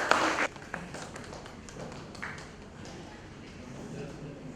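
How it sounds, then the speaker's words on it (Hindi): Applause at an award ceremony, a short loud burst of clapping at first that quickly drops to faint scattered claps and low room murmur. "तालियों से शुरुआत"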